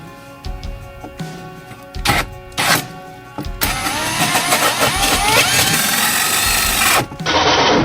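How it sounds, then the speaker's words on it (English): A power drill bites through fiberglass during a Splendide 2100XC washer-dryer install, loud and continuous for several seconds after a few short preliminary bursts, with a high whining grind. "So we're drilling,"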